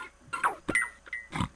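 A cartoon pig oinks a few times in the Green Eggs and Ham Living Books PC game, short grunting squeals with a bright chime-like tone between them, near and clear with no talking.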